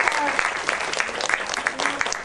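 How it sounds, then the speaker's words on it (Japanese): Audience applause at a Gossip Girl preview screening and talk event in Japan, a steady burst of clapping from a crowd filling the short moment, with a voice faintly speaking underneath. "もう一度大きな拍手をお願いいたします"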